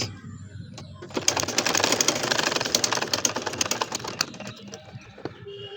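Sewing machine stitching a nakshi kantha quilt, a rapid mechanical clatter of needle strokes that runs for a few seconds at close range, then slows and fades.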